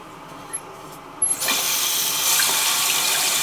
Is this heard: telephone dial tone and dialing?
no